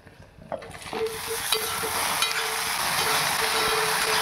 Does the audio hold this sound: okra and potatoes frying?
yes